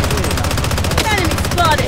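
Rapid automatic gunfire from the mobile shooter game BloodStrike rattles loudly and continuously in a dense burst of shots.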